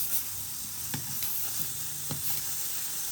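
Merguez sausages sizzle in hot oil in a pan, a steady soft hiss with a few brief crackling pops, close and moderately quiet, no talking.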